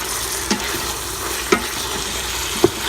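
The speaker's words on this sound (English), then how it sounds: "And then I will saute" Ingredients for red beans and rice sauté in a pan, a constant soft sizzle broken by three distinct scraping taps of the spoon against the pan.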